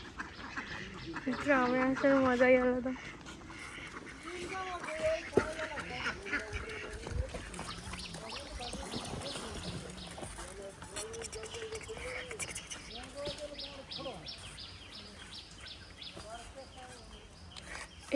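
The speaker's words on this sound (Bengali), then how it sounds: "কত হাঁস দেখো।" Ducks quacking around a village home: a loud burst of repeated quacks near the start, then scattered quacks and bird calls continuing under a person speaking.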